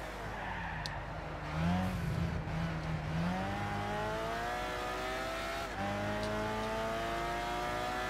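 A race car engine in the Gran Turismo 6 racing game revs hard and climbs steadily through the gears, loud and continuous, with a brief tire squeal in the middle and no talking.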